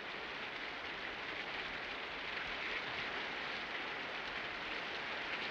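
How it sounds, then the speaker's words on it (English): Steady rain falls in a continuous, even hiss with no breaks or individual drops standing out, a soft, moderately distant wash of sound with no voices. "I don't know what this man wants in this rain"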